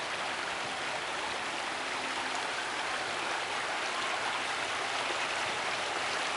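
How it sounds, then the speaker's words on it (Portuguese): Small waterfall in a park pours steadily into a stream, a constant close rushing and splashing of water with no other sounds. "Aqui tem tipo cachoeira, mini cachoeira."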